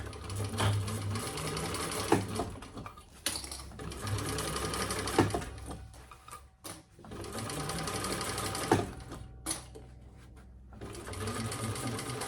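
A domestic sewing machine stitches a bucket bag seam in bursts of rapid, even clatter. Short pauses and soft handling noises break up the runs.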